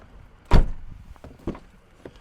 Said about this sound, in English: Now let's see if the door closes without being an issue.